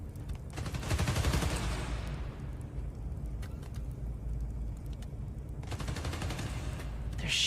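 Bursts of gunfire in Spider-Man: Miles Morales, a loud rattling volley at the start, quieter scattered shots in the middle, then another sustained burst near the end, with no talk.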